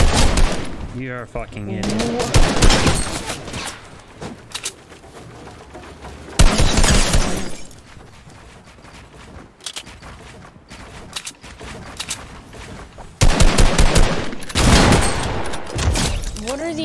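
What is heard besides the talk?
gunfire in a shooter video game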